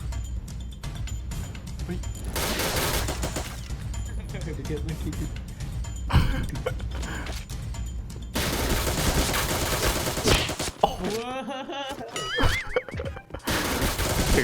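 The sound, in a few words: gunfire in a shooting video game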